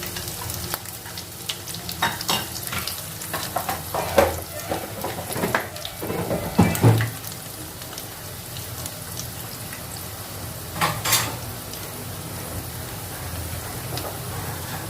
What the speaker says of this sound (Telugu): అన్నీ బాగా వేగుతున్నాయి